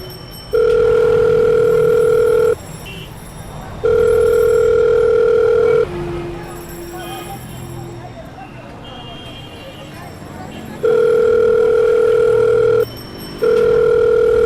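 A telephone call ringing out unanswered: a steady ringback tone sounds in long repeating bursts of about two seconds, separated by pauses filled with faint background noise and muffled voices.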